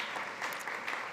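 A summit audience at SXSW claps for a speaker being introduced, a brief burst of steady, moderately loud applause.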